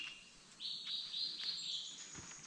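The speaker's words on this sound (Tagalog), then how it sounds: "Ang ingay ng mga ibon." Birds call in a high, continuous chirping chorus, fairly close, with a faint low thump near the end and no talking.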